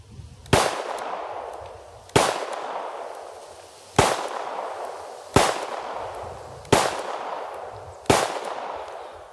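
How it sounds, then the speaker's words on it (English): A revolver fires 148 grain hollow base wadcutter rounds at a target about 15 yards away, six loud, sharp reports spaced roughly one and a half seconds apart, each with a short ringing decay, no talking. "We're shooting 148 grain hollow base wad cutter just because I want you to just kind of see how the gun shoots and everything."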